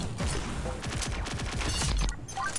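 Rapid bursts of an energy weapon, the Dragon Energy Emitter, fire in Pixel Gun 3D, a dense, crackling stream of shots that runs steadily and loud with no talk over it.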